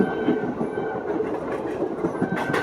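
A train rolls along the railway near Hazrat Nizamuddin station in Delhi, a steady rumble with faint clickety-clack of wheels on rails, heard alone at moderate distance.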